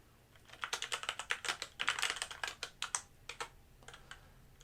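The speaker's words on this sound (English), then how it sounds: "I'm typing on my lap," A computer keyboard, part of a Bigme all-in-one color e-ink PC, is typed on while resting on a lap. Bursts of close, quiet clicky keystrokes come in quick runs, then slow to scattered presses at the end.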